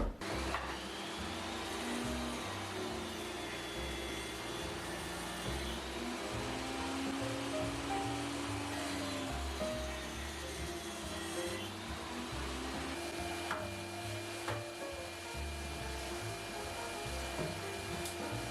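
A workshop dust extraction system runs steadily with the dado head blast gate open, giving a loud, continuous vacuum-like roar with mechanical whine, close and alone for the whole stretch.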